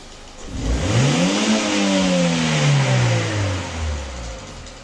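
A car engine revs during a cylinder efficiency test on a motor with a weak first cylinder and suspect hydraulic lifters. The revs climb, hold and then sweep back down over several seconds, loud and close, with no talk.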